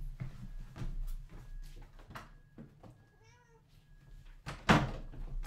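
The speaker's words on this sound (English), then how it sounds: "You hear the cat?" A house cat meows at a closed door, several short cries spread through the clip, with soft thuds and knocks around it and a louder bump near the end, all fairly close indoors.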